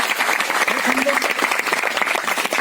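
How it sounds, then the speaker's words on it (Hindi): A crowd claps steadily at a protest sit-in held by Haryana Police recruits demanding their joining, dense continuous applause with some voices mixed in throughout. "उनके लिए ताली बजाओ भाई, उनको बजाओ"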